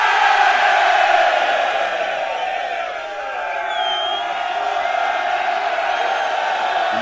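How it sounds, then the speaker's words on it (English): A live wrestling crowd at an NXT Vengeance Day event roars and cheers steadily throughout, a dense, distant wash of voices that dips briefly midway before swelling again. "And the crowd goes wild."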